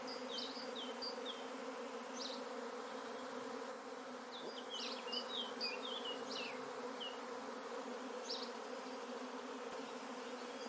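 A honeybee swarm hums continuously, a dense, steady buzz filling the space outdoors, with occasional sharper chirps and faint rustles scattered over it, close and even throughout with no talking.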